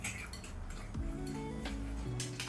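A spoon clinks against a pan while hot water is stirred into a sauce for noodles, with a few light metallic taps and scrapes over faint background hum.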